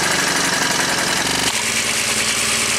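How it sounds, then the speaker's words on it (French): A BMW R1200RT motorcycle engine idles while warming up, a loud, dense, continuous mechanical drone with a steady low throb and constant texture, close to the bike and without talk. "Alors pendant que la moto chauffe"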